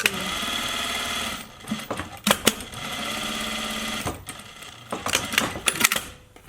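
Sewing machine stitching fabric for a face mask along a half-inch seam, running in several loud bursts of steady mechanical whirring separated by brief pauses and handling noise.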